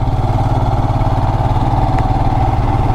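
A Royal Enfield motorcycle engine thumping while riding a winding road in Meghalaya, a loud, close, steady low rumble with no speech.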